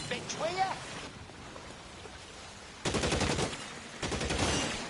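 Gunfire in the video game L.A. Noire, two dense bursts of rapid shots late in the clip over game ambience, with a voice speaking briefly near the start.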